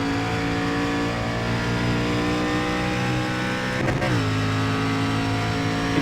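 Generation 4 stock car engine in iRacing, a loud, steady high-pitched drone held at speed, briefly dipping in pitch as the car lifts off, then pulling back up.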